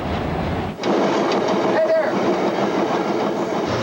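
The Bush campaign train rolls across West Michigan with a loud continuous rumble and rattle of cars on the rails, a short dip near the start, faint voices mixed in.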